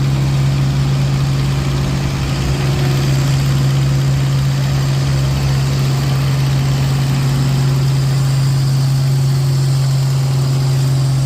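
An antique pulling tractor's engine runs at a tractor pull in Milledgeville, Illinois, holding a loud, steady, unbroken drone with a strong low hum throughout and no voices over it.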